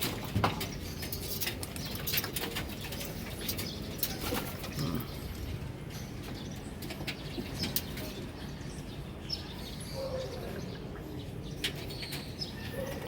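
Pigeons in a loft during morning feeding, with soft cooing, scattered wing flaps and pattering movement throughout, steady and close amid dense room noise.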